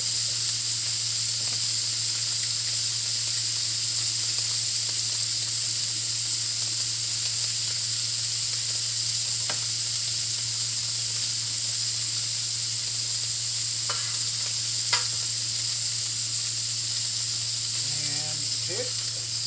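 Fatty churrasco steak frying in its own fat with only a little oil, a steady loud hiss and sizzle throughout, with a few faint clinks near the end.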